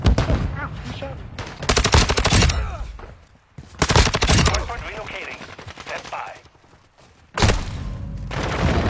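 Video game gunfire in a multiplayer shooter, loud dense bursts of rapid automatic shots and single cracks in several clusters, with a player's voice talking in between.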